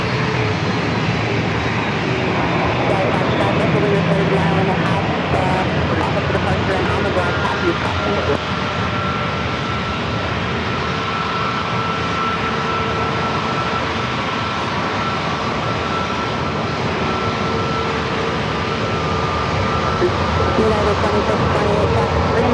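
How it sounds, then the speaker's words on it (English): An Airbus A321neo jet takes off from San Diego airport with a loud, sustained engine roar that swells and holds for over twenty seconds, with some talking underneath. "Turn and burn for this A321 Neo."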